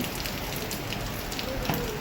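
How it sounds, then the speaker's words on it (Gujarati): Heavy rain pouring down at home, a dense, steady drumming patter on surfaces, fairly loud and unbroken across the short stretch, without speech. "વરસાદ એકદમ મસ્ત આવી રહ્યો છે."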